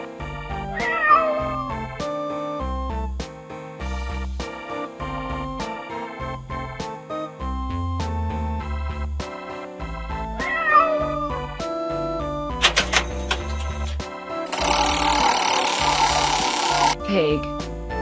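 Cat meows and caterwauling voiced over an upbeat children's music track, the animal cries rising above the melody several times, along with a voice.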